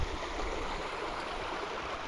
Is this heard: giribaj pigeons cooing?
no